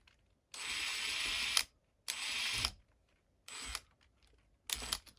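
Tiny screws driven with a driver bit on an RC4WD Scottsdale K10 scale model, heard as four separate close mechanical whirring bursts, each about a second long, with quiet pauses between them and no talk.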